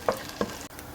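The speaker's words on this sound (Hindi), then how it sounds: "प्याज, लहसुन और अदरक को मैंने मीडियम फ्लेम पर ऑयल में अच्छे से फ्राई कर लिया है।" Onion, garlic and ginger fry in oil over medium flame, a soft steady sizzle broken by two brief scraping stirs, close and quiet.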